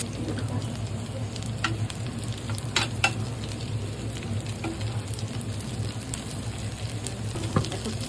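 Sliced onions frying in butter on a hot sizzler pan give a steady, close sizzle with scattered crackles and light scraping, moderately loud and continuous, with no speech.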